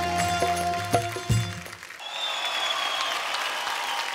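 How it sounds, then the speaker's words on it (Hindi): Audience applause in a television singing competition studio on Indian Idol 12, a dense burst of clapping under music that fades into a softer, steady patter of applause. "जोरदार तालियां इनके लिए,"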